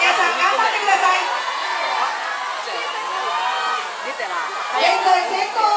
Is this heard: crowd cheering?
yes